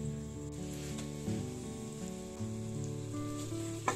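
Green chillies sizzle steadily in hot oil in a pan while being fried for chicken biryani, giving a continuous close hiss with a faint bubbling crackle and no talk.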